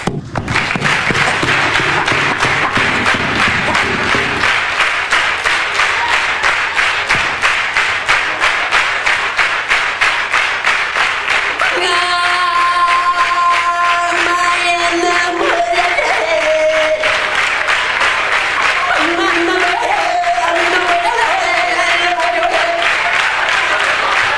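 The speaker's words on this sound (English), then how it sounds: "clap your hands" Comedy club audience clapping in steady rhythm along to a comedian's song, a dense, even pulse of many hands filling the room throughout, with music and voices rising in the background partway through.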